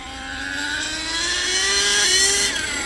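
An HPI Savage RC truck's 3-speed gearbox whirs steadily in second gear, a loud continuous motor-and-gear whine with rising harmonic tones that climb gradually across the run, with no voices.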